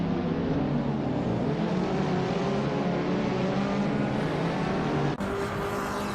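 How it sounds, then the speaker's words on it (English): A 2014 Abarth 500 racing in Assetto Corsa, its engine droning steadily at high revs with a constant buzzing tone, the pitch shifting abruptly near the end as the car changes gear. "Net0X is driving a 2014 Abarth 500 Assetto Corsa Stewart."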